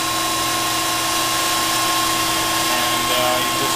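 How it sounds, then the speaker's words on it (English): Hydraulic unit on a Pines No. 2 tube bender, model ENC 075, running as a steady, even hum and whine with a constant tone and no change in level. "There's the hydraulic on."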